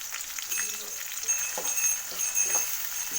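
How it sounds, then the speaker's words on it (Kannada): Onions frying in oil in a pan during Indian home cooking of a soybean gravy, a steady soft sizzle with occasional stirring scrapes and clinks, fairly close, with no talking. "ಇವಾಗ ಈರುಳ್ಳಿನ ಚೆನ್ನಾಗಿ ಫ್ರೈ ಮಾಡ್ಕೊಳ್ಳೋಣ."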